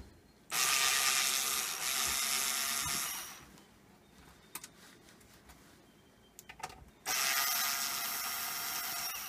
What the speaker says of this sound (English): We've unscrewed the screws.